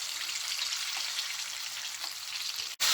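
Fried chicken cooks in hot oil, a continuous crackling sizzle with dense fine pops at moderate level, heard alone before a sudden knock at the very end.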